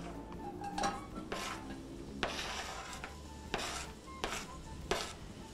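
Onion, squash and garlic sauté in oil in a pan, with a quiet sizzle under repeated scraping strokes of a utensil stirring against the pan, heard alone.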